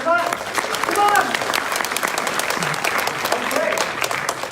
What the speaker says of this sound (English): I'd like to give yourselves a really big round of applause to welcome it.